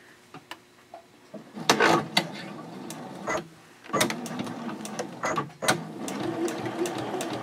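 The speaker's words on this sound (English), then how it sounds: "I'm sewing on a Juki DX4000 QVP, also known as the Kokochi." A Juki DX4000 QVP (Kokochi) sewing machine stitches a quarter-inch seam at 2.6 stitch length with backstitching, running in short bursts of whirring separated by pauses and small clicks, fairly quiet and close.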